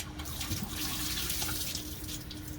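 Water splashing and trickling steadily as an RV black tank drains through a hose, continuous with no voices.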